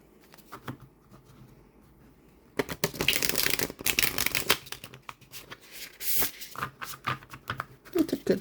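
Flexible gilded tarot cards shuffled by hand, a quiet start then rapid riffling bursts and crisp papery patter, close up, with no talking.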